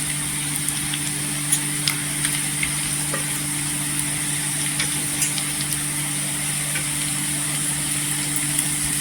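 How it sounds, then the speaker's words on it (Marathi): Dry spice powders sautéing in oil for a brinjal (eggplant) dish give a steady, close sizzle with light stirring scrapes throughout, and no one speaks. "हे छान असे मसाले सुके मसाले आहेत ते तेलावर परतायचे."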